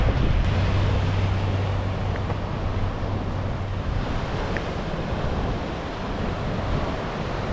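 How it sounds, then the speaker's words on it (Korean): Rough sea waves crash and roll beneath strong wind on a Bodrum coastline, a continuous broadband roar with gusty microphone buffeting throughout and no voices. "이렇게 깨끗해 보이던 바다가 파도 치니까 막 난리가 났다."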